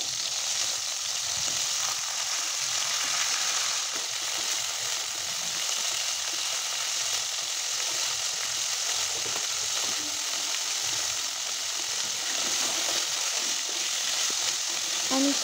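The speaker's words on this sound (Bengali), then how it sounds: "আমি খুব ভালো করে নাড়িয়ে চাড়িয়ে এপিট ওপিট ভেজে নিচ্ছি।" Crabs fry in a pan with salt, giving a steady, dense sizzle that holds evenly throughout, with faint stirring and turning noises now and then.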